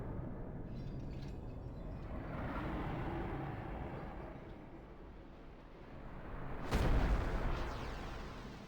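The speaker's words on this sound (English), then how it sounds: "Kind of an unceremonious explosion there" A rumbling, roaring explosion from the video game Final Fantasy X sustains a dense low roar, swells with one sharp, loud blast partway through, then fades into a lingering rumble with no talk over it.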